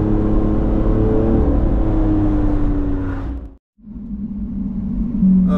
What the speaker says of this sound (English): Just awesome acceleration, and also gotta love those exhaust pops as well.